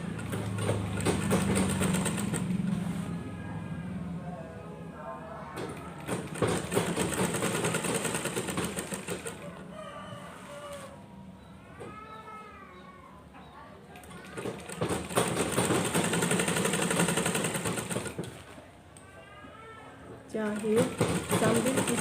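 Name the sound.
sewing machine stitching clothing bodice pieces together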